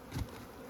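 Honeybees in trial hives during fall mite sampling, a close steady buzzing hum heard alone for a brief moment.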